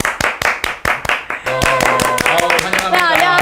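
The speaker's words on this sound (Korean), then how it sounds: "우리 한번 박수로 모셔볼까요?" A small studio group claps in a steady rhythm to welcome a guest, a team leader in international cooperation at the Federation of Korean Industries, on a Korean job-news show. Sharp, evenly spaced claps ring out alone at first, then keep going under bright music.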